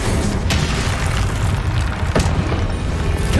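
A fire spell, Incendio, is cast in Hogwarts Legacy, a loud sustained roaring whoosh with broad rumble, marked by two sharp bursts in the middle, close and without talk.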